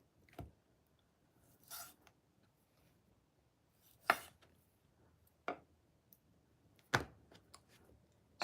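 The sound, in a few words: knife cutting into dry-aged steak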